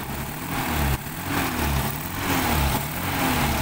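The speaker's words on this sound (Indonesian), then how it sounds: "Ini suara mesinnya." A 1974 Toyota Corolla KE20 classic car engine idling, a steady low rumble with a slight rhythmic pulse, close and loud throughout.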